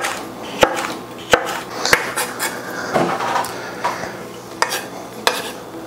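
Knife thinly slicing red chilies on a cutting board for a Thai cucumber salad, a series of sharp, evenly spaced chops about every half second to second, close and distinct over a quiet room.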